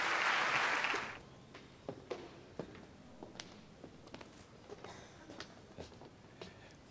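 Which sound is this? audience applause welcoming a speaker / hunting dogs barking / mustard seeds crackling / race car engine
audience applause welcoming a speaker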